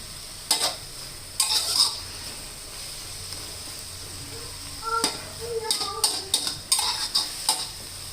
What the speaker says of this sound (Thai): เราก็ผัดอีกสักนิดหนึ่งนะคะ